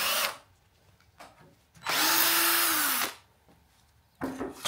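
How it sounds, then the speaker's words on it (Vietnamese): Power drill driving screws and boring holes into a wooden polished shelf, three separate bursts of whirring, the middle one long and steady with a rising pitch, close and loud. "việc mình cần làm bây giờ chỉ là khoan lỗ và bắt ốc vô thôi"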